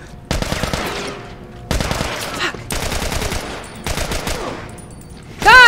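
Rapid bursts of gunfire in The Last of Us, four separate clusters of fast shots close and loud, each trailing off before the next, with a sharp sound at the very end.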